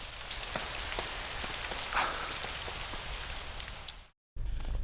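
Heavy rain pours down in a steady, dense wash, loud and continuous, then cuts off briefly near the end before resuming.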